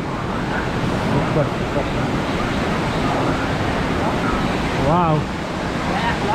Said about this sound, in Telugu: చూడండి వాటర్ ఎంత ఫ్లో ఉంది చూడు